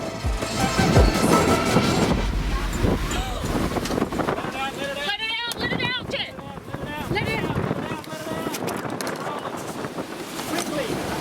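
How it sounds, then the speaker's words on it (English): A strong gust roars across the microphone in a continuous rushing blast while sailing at sea off Tasmania, with people talking over the wind noise. "Oh, that was a big gust"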